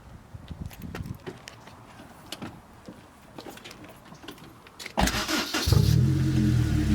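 A Honda S2000 with a muffler delete starts up near the end after a stretch of faint background rustle, its engine catching loudly and settling into a raw, buzzy idle close by.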